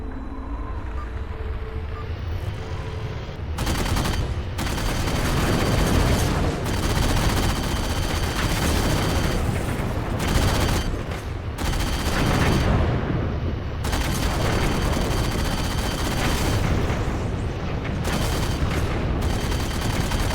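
Sustained bursts of gunfire from a newly picked-up weapon in Halo 4, loud and dense, with brief pauses between volleys over a constant backdrop of game noise.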